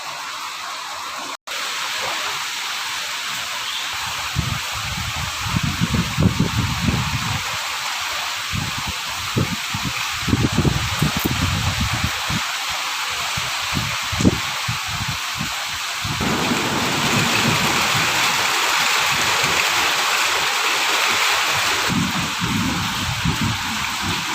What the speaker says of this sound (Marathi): मोठा पाऊस आणि वारासुद्धा.